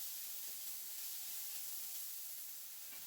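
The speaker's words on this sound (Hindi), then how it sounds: "1 से 2 मिनट प्याजों को भून लें।" Onions frying in two to three tablespoons of oil in a pan, a soft, steady sizzle and hiss that is faint but continuous, with no talking over it.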